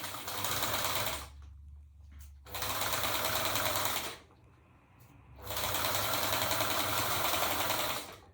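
Sewing machine stitching a fabric drawstring bag seam, running in three loud continuous bursts separated by short pauses, close and steady with no talk.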